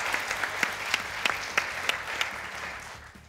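Scattered clapping from an audience, a series of sharp individual claps over a low repeating background pattern, moderate in level and fairly close, with no speech over it.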